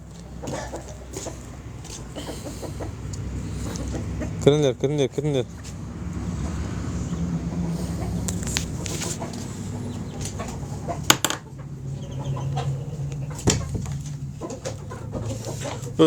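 Chickens cluck and call on and off around a person talking, with scattered bird chirps and a low background rumble like a passing car.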